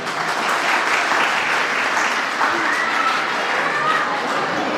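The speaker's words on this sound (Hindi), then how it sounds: "मैं चाहता हूँ बच्चों के लिए आप बहुत अच्छे से ताली बजाएं" An audience at a school annual function applauds the children with loud, sustained, dense clapping from a crowd that fills the whole stretch, with a few faint voices beneath it.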